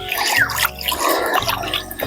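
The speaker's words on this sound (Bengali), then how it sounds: "দেখুন বন্ধুরা, মাছটা এখন আমি ভালোভাবে ধুয়ে নিচ্ছি।" Running tap water splashes and trickles steadily over a hilsa fish being washed by hand, close and continuous for a couple of seconds.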